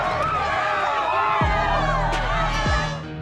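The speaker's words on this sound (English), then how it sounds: "The crowd is going nuts." A roaring arena crowd cheering at the Delta Center in Salt Lake City during NBA Finals Game 6 between the Chicago Bulls and Utah Jazz, a dense sustained roar with whistles and shouts.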